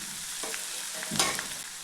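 Crushed garlic, coriander seed and fennel dropped into hot oil for a Tamil fenugreek gravy, giving a soft sizzle with brief stirring bursts, close and fairly quiet, no voices.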